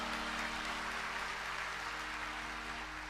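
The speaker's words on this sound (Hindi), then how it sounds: "बजाइए ताली" An audience claps together in a dense, continuous wash of applause at a devotional Sundarkand recitation, steady and fairly loud for a few seconds.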